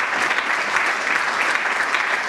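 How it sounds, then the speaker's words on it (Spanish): Steady, dense applause from a crowd at a Justicialist Party candidate presentation in Bragado, cheering a council substitute pre-candidate; continuous and fairly loud throughout with no talking over it. "Fuerte el aplauso para la compañera."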